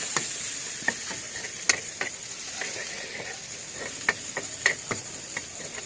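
Chili peppers fry in hot oil until brown, a steady close sizzle and hiss broken by sharp pops and occasional clicks of a utensil against the pan.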